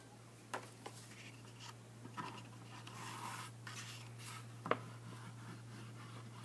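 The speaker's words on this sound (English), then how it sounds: "I'm drawing a cloud here with my white oil pastel" A white oil pastel scrapes across paper in short, soft strokes and scratchy rubs, faint and close, with a steady low hum running underneath.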